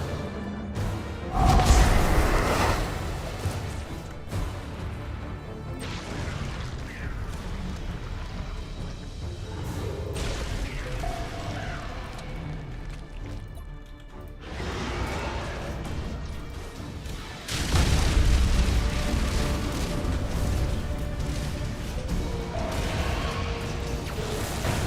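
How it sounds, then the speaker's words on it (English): Boarding torpedoes launch in the space strategy game Battlefleet Gothic: Armada 2, with Tyranid and Imperium fleets clashing. Mechanical clanks and whooshing crashes surge in two loud waves over a dense, rumbling battle bed. "Let's send more boarding torpedoes."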